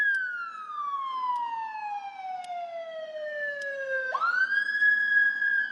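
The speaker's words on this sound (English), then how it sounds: "Got an ambulance coming down the pike." A wailing ambulance siren sweeps steadily downward in pitch as it passes, then jumps into a higher steady tone, loud and continuous with no talking.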